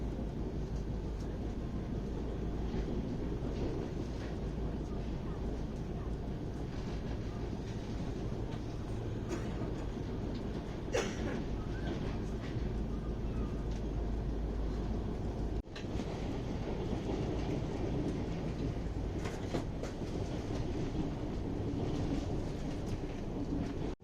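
Lucknow Swarna Shatabdi Express running on rails, a steady close rumble of wheels and carriages with faint rattling clicks throughout, no voices.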